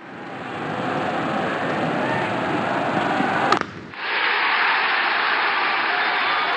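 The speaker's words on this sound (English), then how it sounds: "Crowd is going crazy." A cricket stadium crowd at an IPL match between Punjab Kings and Sunrisers Hyderabad cheers after a big hit: a loud, continuous roar that dips briefly near the middle, then swells again.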